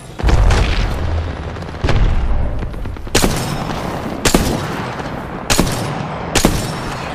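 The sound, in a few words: Arc Star grenade thrown and exploding in a video game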